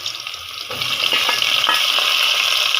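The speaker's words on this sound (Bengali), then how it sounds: "এখানে অনেক তেল উঠবে মুরগিটা থেকে পিসগুলি দিয়ে নিচ্ছি বিসমিল্লা তেলটা গরম হয়ে গেছে" Layer chicken pieces dropped into hot oil in a pan give a loud, steady close-up sizzle that swells after a brief quieter start, with light crackling and the occasional stir scrape, no talking.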